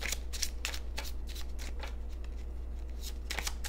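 Oracle cards for a love reading riffle and slide in repeated quick bursts, close and crisp, over a constant low hum with no talking.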